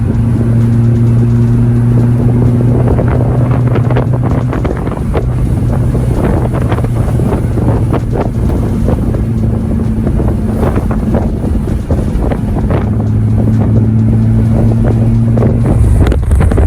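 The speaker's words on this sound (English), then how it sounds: "Super windy, lot of debris." Strong wind buffets the microphone outdoors on a mountain road, a loud, continuous rumble with gusty surges throughout, mixed with a low steady hum and scattered debris ticks; no one speaks.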